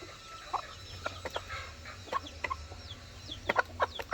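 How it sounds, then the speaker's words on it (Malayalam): A hen separated from its chicks clucks in short, uneven bursts, some sharper notes rising toward the end, close by over a low background hum with no talking. "പിള്ളേരിൽ നിന്ന് വേർപ്പെട്ട് നിന്നതിൻ്റെ സങ്കടത്തിലാണ് കോഴി."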